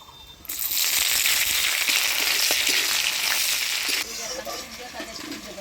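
Chopped onion hits hot oil already tempered with dried chilli, whole cumin and bay leaf, erupting into a loud, steady sizzle that holds for several seconds before easing to a softer, bubbling fry.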